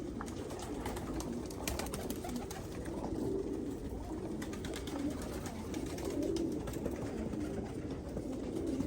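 Female pigeons coo softly and continuously over a low, murmuring background, the calls faint and blending together.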